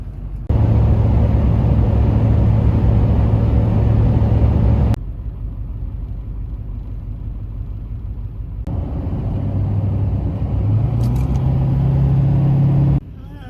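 Car engine rumbling on the road on a chilly morning in West Haven, Vermont, steady and close, dropping to a quieter interior drone midway before swelling again as the vehicle pulls along.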